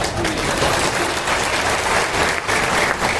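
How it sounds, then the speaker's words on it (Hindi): Dense, continuous applause from a seated audience at a Khangar-Parihar community gathering in Karera, a steady roar of many hands clapping at moderate distance for about three seconds with no voice over it. "तालियों की गड़गड़ाहट"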